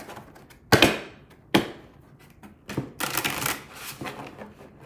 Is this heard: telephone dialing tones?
no